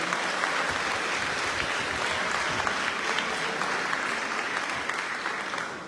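Audience at a secondary school graduation ceremony clapping for a student, steady dense applause held at an even level throughout and easing slightly at the end, with faint voices underneath.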